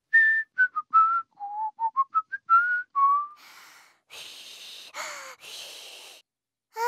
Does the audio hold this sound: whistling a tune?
yes